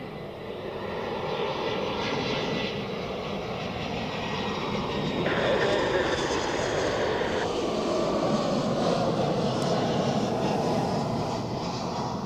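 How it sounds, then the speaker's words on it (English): A Swiss Airbus A320 from Valencia landing at Zurich Airport, its engines producing a continuous broadband roar that holds steady and loud from start to finish, with no voices. "next landing is the Swiss A320 from Valencia"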